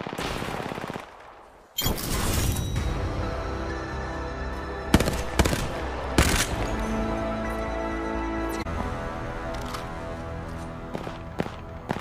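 Rapid bursts of automatic gunfire from the Apex Legends shooter, sustained and loud through most of the stretch after a short quiet opening, punctuated by sharper single shots and impacts.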